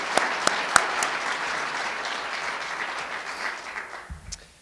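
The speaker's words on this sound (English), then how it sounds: "I'd also ask that we give a round of applause for Lee McDougall and Pat Rowan" Audience applause fills a hall at an annual club meeting, a steady clapping from a moderate-sized crowd that tapers off and fades out at the end.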